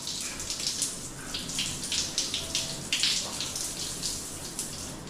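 Water runs from a tap in a newly built bathroom, a steady broadband hiss with small surges that fades weaker as pressure drops, close and continuous with no talking.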